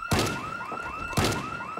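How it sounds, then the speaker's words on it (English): A Project Zomboid alarm blares in two repeating cycles, each opening with a hard thunk and then a steady electronic siren tone that wavers up and down, loud and close. "The alarms are not loud at all."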